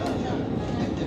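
A Doha metro train running, a steady loud rumble with faint rail clatter heard from inside the carriage, brief and continuous.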